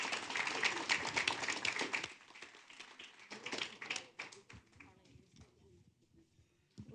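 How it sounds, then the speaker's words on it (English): Audience applause at a city council meeting in Carson, California, with steady clapping for about two seconds that thins into scattered claps and fades, mixed with background chatter. "Let's give her a round of applause."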